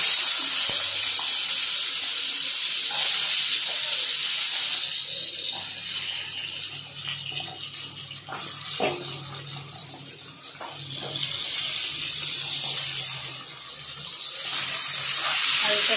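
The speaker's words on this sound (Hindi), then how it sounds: "एबे आमे आलूटा को भाजी नबा" Potatoes frying in hot oil in a kadai, a steady broadband hiss that swells and dips with occasional soft clatter, close by with no talk.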